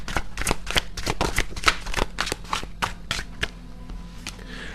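A deck of Voyage of the Soul oracle cards being shuffled by hand, a steady run of quick riffling card flicks close up for several seconds, with no talking.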